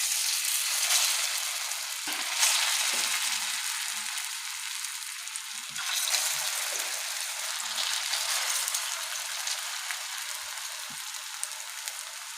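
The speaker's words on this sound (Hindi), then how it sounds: "कटलेट्स फ्राई करते हैं।" Potato cutlets (aloo kabab) fry in hot oil with a steady, bright sizzle that crackles continuously without pause. No voices are heard over it.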